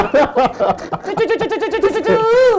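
A voice imitates a dove's cooing: a few short vocal sounds give way to close, loud, warbling coos repeated in a quick, rolling rhythm.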